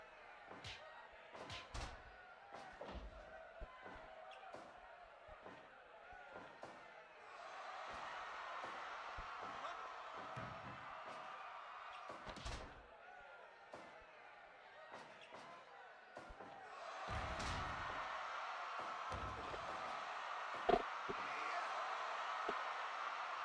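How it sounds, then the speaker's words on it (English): Neighbors' fireworks popping and thudding outdoors on the Fourth of July, heard faintly as scattered distant bangs that cluster in uneven bursts, with a person talking over them at times. "Neighbors with their fireworks."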